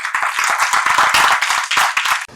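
An audience applauds two speakers at a devotional literary gathering, a dense, steady burst of many hands clapping close and loud, cutting off abruptly at the end.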